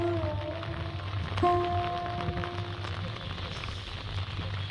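Rain falls over a potato field in West Bengal, a soft steady patter in open air with faint tonal sounds briefly overhead.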